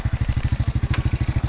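A motorcycle ridden by a beginner rider putters close by with a fast, even chugging pulse, its engine loud and steady at low revs.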